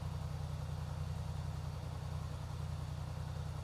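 A Polaris Sportsman High Lifter ATV engine idles steadily, a low, even hum that holds constant throughout with no voices and no change in pace.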